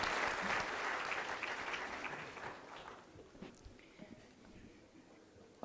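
An audience at an event in Delhi marking Bhagat Singh's birth anniversary applauds a speaker: dense clapping that starts full and gradually thins and fades over several seconds.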